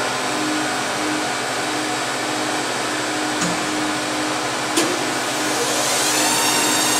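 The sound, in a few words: hot air blower running in polypropylene welding system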